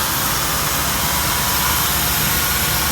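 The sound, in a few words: Honda Civic engine idling roughly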